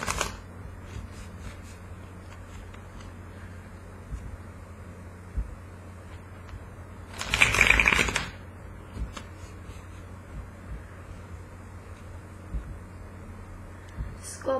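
A single brief riffle of tarot cards being shuffled, a short papery burst, rising out of a quiet room with faint background noise.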